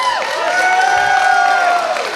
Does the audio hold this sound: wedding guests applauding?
yes